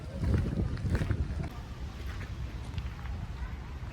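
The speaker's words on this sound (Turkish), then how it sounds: "Evet bugün bayağı rüzgar var ya." Strong wind buffets the microphone at a beachside campsite in Adrasan, Turkey, with a steady low roar and gusty rumble, louder at first, with faint background sounds beneath.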